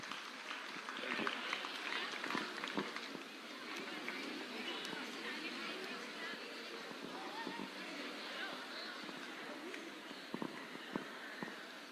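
Children in a school assembly audience clap together at a senior secondary day event, a sustained, fairly distant wash of many hands with faint chatter mixed in.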